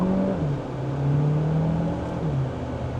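A Chery Tiggo in Sport mode accelerates hard at full throttle with its DCT gearbox, a loud steady engine drone rising in pitch, dropping briefly at each upshift, then climbing again.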